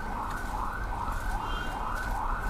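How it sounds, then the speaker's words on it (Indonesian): A siren wails continuously beside a hospital at a steady, moderate level, its tone rising and falling, mixed with low rumbling traffic noise. "Itu suara sirine karena pas kita berada di samping rumah sakit Prima."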